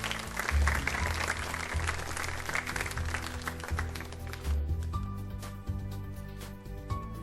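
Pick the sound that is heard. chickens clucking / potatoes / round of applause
round of applause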